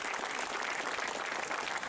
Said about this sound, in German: die haben wirklich Beifall verdient